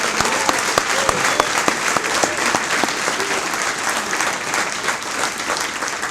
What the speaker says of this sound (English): How about one more round of applause for this great Hall of Fame class?